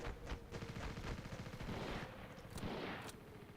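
M1 Garand rifle fire in a World War II video game, a quick run of sharp, faint shots with short gaps between them, heard alone.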